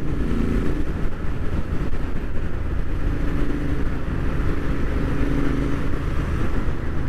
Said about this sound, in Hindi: जब नया एग्जॉस्ट और नया साइलेंसर या कुछ लगता है तो उसकी आवाज़ सुनने को बार बार ही मन करता है